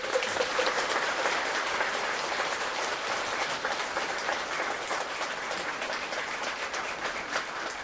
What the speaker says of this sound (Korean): 다시 한번 큰 박수 올리겠습니다